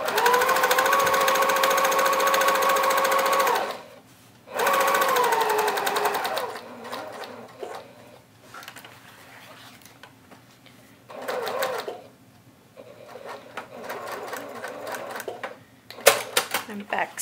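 A sewing machine stitches tote bag fabric, with loud close runs of whirring cut by abrupt stops, then quieter intermittent stitching and backstitching with pauses and clicks.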